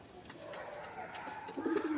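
Domestic pigeons cooing softly nearby, a few low rolling coos rising toward the end over faint background ambience.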